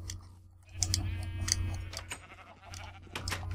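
Sheep bleating in Minecraft on PS4, a few short rising calls over a low steady game hum with soft clicks, moderately quiet and without talk.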